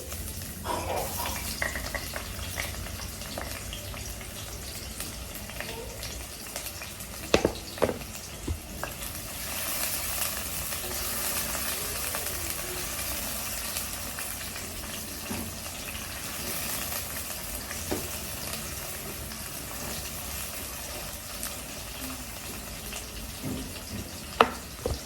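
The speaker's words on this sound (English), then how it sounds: "So the pan was so hot already. I'm just going to be putting my onions." Onions frying in a very hot pan give a continuous low sizzle, with occasional sharp clinks and knocks of utensils scattered through the long stretch.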